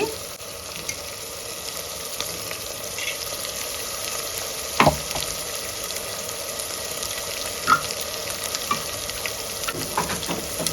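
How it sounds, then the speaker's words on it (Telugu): Green chilli, garlic and ginger masala paste frying in a pan, a close, continuous crackling sizzle with occasional sharper pops and clinks of stirring. "ఇది కొంచెం మసాలా అనేది బాగా వేగాలన్నమాట"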